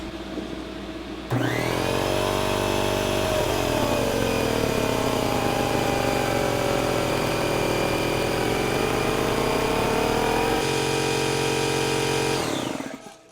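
A leaking air compressor valve produces a steady hiss over the compressor's loud droning hum, which starts abruptly after a quiet moment, runs evenly for about eleven seconds, then winds down.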